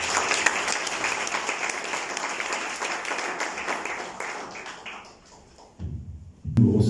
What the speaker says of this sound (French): On l'accueille tout de suite sous vos applaudissements.